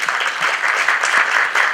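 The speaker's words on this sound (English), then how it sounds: "How about a round of applause for those guys too?" Audience at a safety symposium giving a sustained round of applause, a steady, dense clatter of many hands clapping throughout, fairly close.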